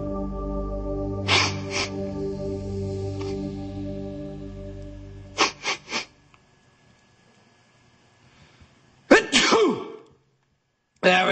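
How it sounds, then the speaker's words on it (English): A person sneezes after taking snuff, several sharp, explosive sneezes spaced apart with breathy snorts between, loud and close over faint background hum. "Achoo! Or a sneeze."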